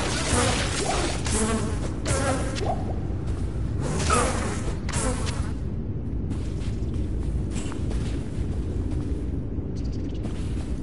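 A locust swarm in the video game Diablo II Resurrected gives off a dense, steady insect buzzing that fills the whole stretch at constant loudness, close and unbroken.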